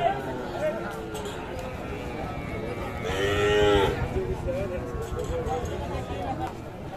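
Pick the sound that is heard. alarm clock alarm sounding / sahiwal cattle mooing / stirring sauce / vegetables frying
sahiwal cattle mooing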